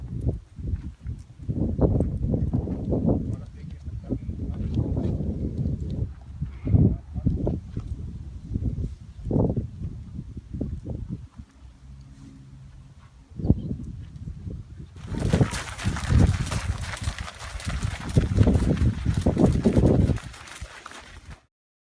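Mares and foals moving about in stalls and catch pens during weaning, with repeated hoof clops and shuffling footsteps close by, steady throughout and joined by a brighter, noisier rustle toward the end.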